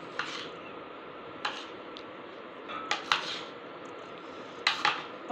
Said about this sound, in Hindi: इसे मिक्स कर लेंगे।